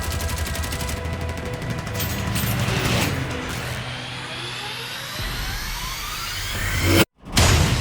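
Machine gun fire from an attacking FW-190 fighter, loud rapid bursts mixed with roaring aircraft engine noise and crashing impacts, ending in a sudden brief cutoff.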